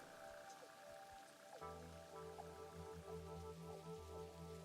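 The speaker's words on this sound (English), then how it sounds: "Is it raining in the game? I can hear the rain." Rain in a factory-building video game makes a faint, steady patter. A low mechanical hum joins partway through.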